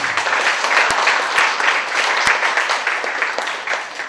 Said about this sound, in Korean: 정말 남다른 목소리로 깔끔하게 아주 낭독해 주신 우리 이인희님께 다시 한번 박수 부탁드리겠습니다.